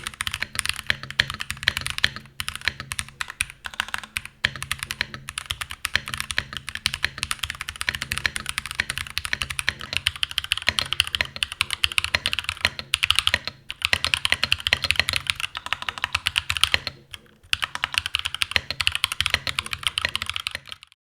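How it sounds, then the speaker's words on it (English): Typing on a NuPhy Halo65 mechanical keyboard with Kangaroo switches, a dense, continuous patter of close keystrokes that runs without a break, with a few brief pauses. "comparing the Halo65 all stock with Kangaroo and then the same without the bottom silicon."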